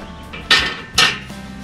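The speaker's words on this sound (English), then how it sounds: "A couple of springs in here for the brake lever and the kickstand probably." Metal springs for the brake lever and kickstand from a boxed Tao Tao TBR7 handled up close, giving two sharp metallic clanks about half a second apart over a low background hum.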